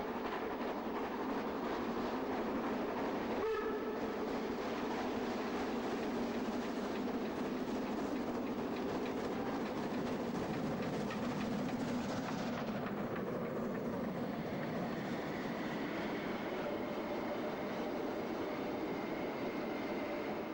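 A narrow gauge steam locomotive of class 99 accelerates onto the Brockenbahn in the Harz, a steady rumble of running wagons continuing throughout, with a brief sharp accent early on and a slight change in tone partway through.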